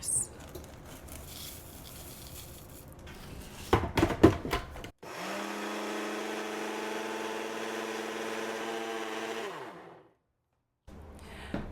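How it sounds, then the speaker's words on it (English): A blender grinds about two and a half cups of oats into oat flour, a steady loud whirring roar of about five seconds that winds down, after a few clattering knocks. "I'm just going to grind some oats"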